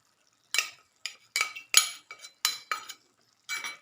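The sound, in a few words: cornflour slurry stirred into tomato fish curry gravy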